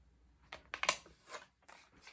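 A pen scratching across a small sticky note, a few short, soft scribbling strokes close by in an otherwise quiet room.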